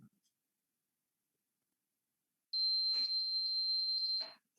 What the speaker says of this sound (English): Okay, so you can hear the buzzer.